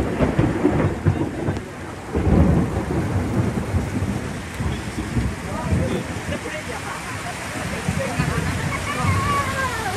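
Heavy monsoon rain with rolling thunder at a village fair, a constant roar of rain on surfaces with deep rumbles swelling and fading, and people talking now and then beneath it.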